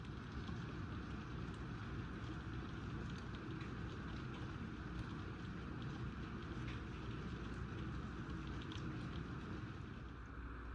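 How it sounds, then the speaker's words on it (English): Steady rain falls outside a house on a wet Florida day, a dense, even hiss of broadband noise that holds at a constant level throughout, with no voices. "rain's not letting up"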